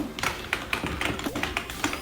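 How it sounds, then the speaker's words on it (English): Computer keyboard keys click rapidly through a streamer's microphone, a close, steady run of about a dozen sharp taps with slightly uneven rhythm and no talking. "my mic will pick up my keyboard"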